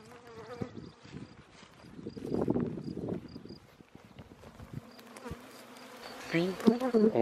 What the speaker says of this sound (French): on verse les abeilles dans la ruche